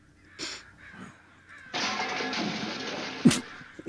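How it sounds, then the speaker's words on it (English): Crows caw in harsh bursts as the flock scatters, a few separate calls at first, then a dense loud clamour of overlapping caws ending in a sharp crash-like hit. "The crows scattered in a scream"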